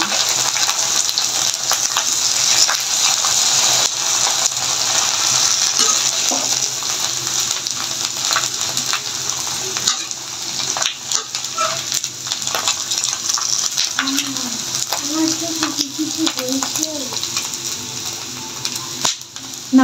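Papad deep-frying in hot oil gives a continuous bubbling sizzle with soft hissing and occasional faint clinks, steady and fairly close for about twenty seconds.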